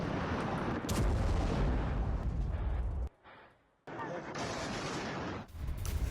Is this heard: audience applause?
no